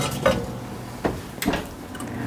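A metal lid is set onto a braising pot of apple cider pork roast, making a few brief clinks and knocks spread across a couple of seconds, close by and with no voices.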